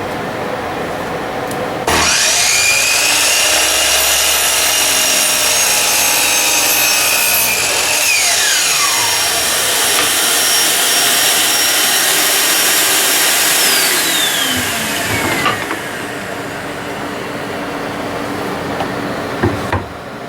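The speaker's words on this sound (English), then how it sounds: "we need to go into our saw and cut it" A power saw cuts through a piece of wood for the cross member of a rustic wall sconce, a loud, steady whining buzz that runs about thirteen seconds and then winds down, close and alone, with no talk.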